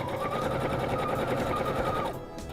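A sewing machine stitches fabric divider panels for a makeup pouch, running in a steady, fast mechanical whir with a continuous hum and rapid needle chatter, close by, before stopping abruptly.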